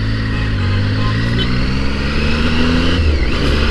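Motorcycle engine revving hard on a highway, a loud steady drone with layered harmonics over constant road and wind noise, close and continuous throughout.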